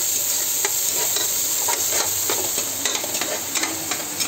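Onions and cinnamon fry in a pan for chicken biryani, giving a continuous close sizzle broken by repeated scraping stirs.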